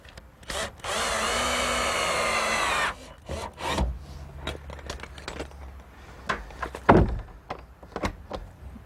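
A power tool whirs steadily for about two seconds while T-hinges are fixed to a shed's Z-brace doors, followed by scattered knocks, taps and handling of wood.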